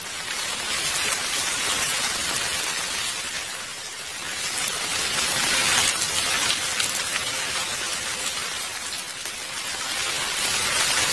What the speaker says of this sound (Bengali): আচমকা ঝমঝমিয়ে বৃষ্টি আসতে শুরু হওয়ায় আমি মহা বিপদের মধ্যে পড়ে গেলাম।